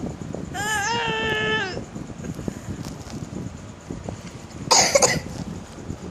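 A child's thin whimpering cry is followed a few seconds later by a single sharp cough, with faint wind rumbling throughout.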